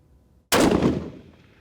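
A single sharp rifle shot cracks out at an outdoor shooting range, a loud close blast after a brief quiet lead-in, followed by a decaying echo tail that rolls off over about a second.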